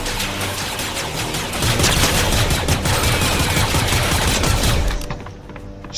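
Rapid bursts of Fortnite gunfire, loud and close, rattle dense and continuous through most of the stretch before dropping off sharply near the end.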